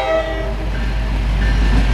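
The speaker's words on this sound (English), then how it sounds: "This is actually a track maintenance train." A heavy track maintenance train rumbles past nearby, its low drone layered with sustained tonal whines and a faint horn-like note.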